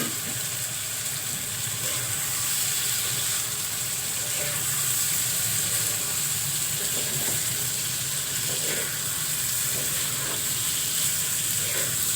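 Beef liver and spleen frying in a pan of cooked-down spices, giving a steady, soft sizzle that runs evenly throughout with no talking.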